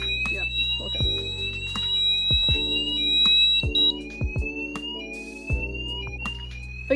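Garage fire alarm sounders blare loudly in a steady, piercing electronic tone, joined by a few repeated beeps, with a person talking over the alarm throughout.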